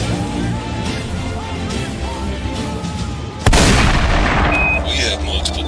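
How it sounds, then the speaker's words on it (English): A loud cannon salute booms suddenly partway through, a sharp broadband blast that lingers as a rumbling roar over the steady background sound, with some voice present. "Here's your cannon salute!"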